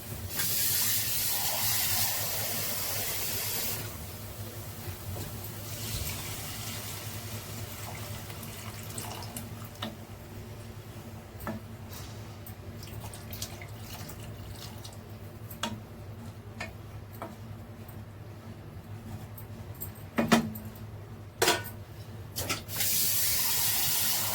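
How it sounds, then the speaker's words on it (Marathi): Water is poured into cooked ground masala paste with tomato for a fresh-peanut amti, giving a steady soft hiss and trickle that runs throughout, with occasional small ticks and clinks from the pot. "त्याच्यात ना आपण पाणी टाकूया"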